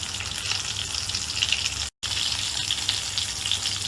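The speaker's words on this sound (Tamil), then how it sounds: "இப்போ நான் கட்லெட்டை போட போகிறேன். டீப் ஃப்ரை ஆகுறது வரைக்கும் நம்ம அதை ஃப்ரை பண்ணணும்." Chicken cutlets deep fry in hot oil, giving a loud, close, continuous hiss and bubbling roar that runs unbroken apart from one brief gap, with no one talking.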